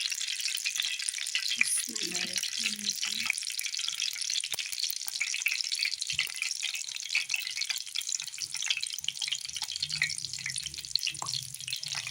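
Pakoras fry in hot oil in a home kitchen pan, a constant crackling sizzle running throughout, with brief clinks of a spoon and soft low knocks from handling the pan.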